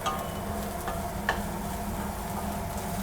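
Crispy corn stirred and frying in a pan, a steady soft sizzle with a few light scraping stir strokes, close and alone.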